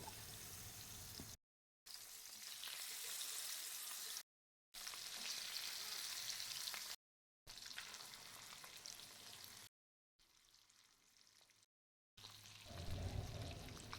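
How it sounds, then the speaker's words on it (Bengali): Small rohu fish sizzling and crackling steadily in hot mustard oil in a wok, close up, broken by a few short silences and a stirring sound near the end. "একটা কড়াইতে সর্ষের তেল দিয়ে তেলটা গরম হলে একে একে মাছগুলো আমি সব দিয়ে দেব"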